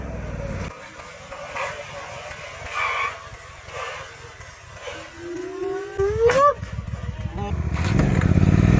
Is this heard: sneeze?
no